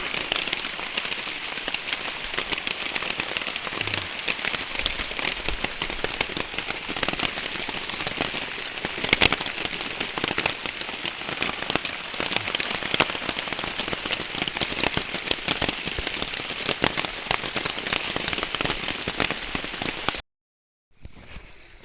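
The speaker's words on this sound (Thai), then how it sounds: "ฝนตกเนาะ" Rain falls steadily in a forest, a dense continuous patter on leaves and ground with a few sharper drops standing out, ending abruptly near the finish.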